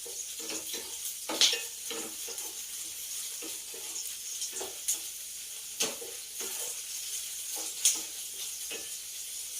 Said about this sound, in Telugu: పచ్చిమిరపకాయలు నేను నూనెలో వేయించుకోవాలండి బాగా